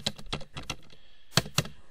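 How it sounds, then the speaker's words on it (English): Someone types on a computer keyboard with a series of close, crisp key taps. A short pause comes before two sharper strikes at the end. "I'm going to type my name"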